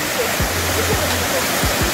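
Cachoeira da Toca, a waterfall, pours in a steady broadband rush. Several low thumps and short tones from nearby movement or handling sit over the water noise, and no speech is heard.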